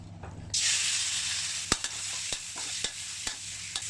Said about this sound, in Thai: วันนี้พี่บ่าวใช้วิธีเอาหมูมาผัดก่อน